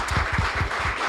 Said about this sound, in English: So just a round of applause for them.